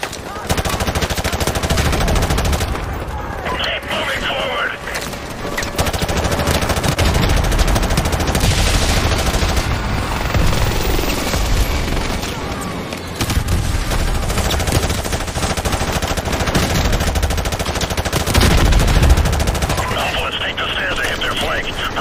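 Sustained automatic gunfire and bursts of shots in the Call of Duty Modern Warfare Remastered prison assault battle, loud and continuous throughout, with shouted voices over the fighting.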